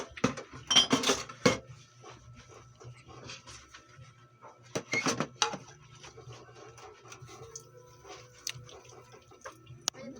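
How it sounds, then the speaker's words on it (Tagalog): Dishwashing at a sink: a plate scrubbed with soap, with clattering clinks of dishes and cutlery in two loud bursts, then softer rubbing and scraping over a low steady hum. "Ayusin mo pagsabon niyang plato."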